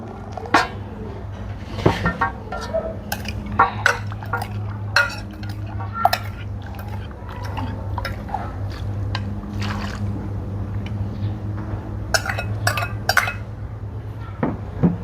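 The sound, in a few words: stirring to dissolve salt for Khmer pickle brine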